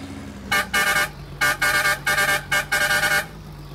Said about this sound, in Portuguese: Tô apertando na buzina.